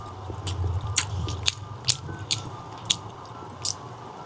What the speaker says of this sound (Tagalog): Unang kagat, first bite.